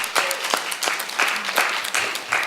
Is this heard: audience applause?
yes